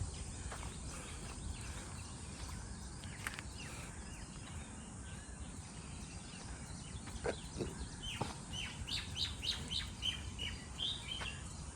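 Small birds chirp and tweet faintly among trees in a wooded patch near Panvel, scattered short calls over a steady low background hum.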